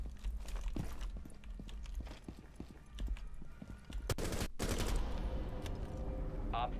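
Gunfire in a Rainbow Six Siege indoor round, with scattered sharp shots and a loud shotgun-like blast burst near the middle, over ongoing clattering footsteps and movement.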